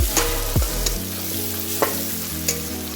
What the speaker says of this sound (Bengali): আর এদিকে প্রায় পেঁয়াজটা ভাজা হয়েই গেছে।